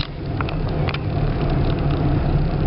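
Steady car engine hum and road rumble from inside a car on a coastal drive above the Bay of Pollenca in Mallorca, continuous and fairly loud, with a few faint ticks above it and no talking.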